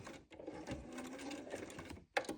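A sewing machine runs steadily stitching the seam of a fabric bag, a continuous close whirring that halts briefly twice before starting again.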